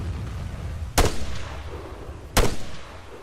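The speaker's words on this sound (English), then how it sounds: "Called in air support, and I also called in an artillery strike." Artillery strike explosions in a war video game: two sharp booms about a second and a half apart over a continuous low rumble.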